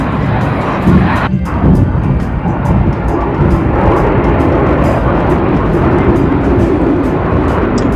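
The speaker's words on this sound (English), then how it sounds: "Boca Chica Airfield is a training center for jet pilots, and we got some great air shows." Jet aircraft flying overhead during pilot training at Boca Chica Airfield, a loud continuous roar with a broad rumble that stays steady across the whole stretch, along with some sharp rhythmic clicks.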